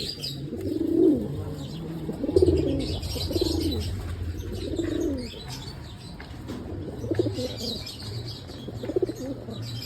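Pigeons coo in a steady series of low, rolling calls, close and fairly loud, with a few light chirps and a brief flutter of wings mixed in.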